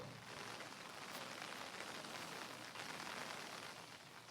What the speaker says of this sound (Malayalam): അത്യാവശ്യം നല്ലൊരു മഴയാണ് ഇപ്പോൾ രാജ്യ തലസ്ഥാനത്തിൽ ലഭിച്ചിരിക്കുന്നത്